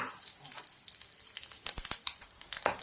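Whole spices (cinnamon stick, cumin, cloves, black pepper) crackle and sizzle in hot mustard oil, a steady close hiss with sharper popping bursts toward the end and no talking.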